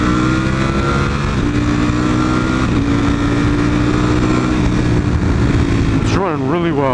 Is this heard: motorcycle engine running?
yes